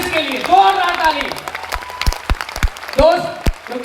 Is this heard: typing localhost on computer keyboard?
no